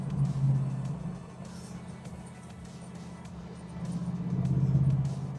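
A 2001 Morgan Plus 8 rumbles with a low, throaty exhaust note, swelling and easing at moderate distance, with no talk over it.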